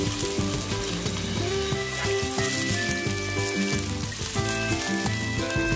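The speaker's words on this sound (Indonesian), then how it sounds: "kita tumis sekejap sehingga agak layu" Onions and garlic sauté in hot oil for a Malaysian sweet-and-sour patin fish dish, a steady close sizzle with a few soft stirring scrapes and no talking.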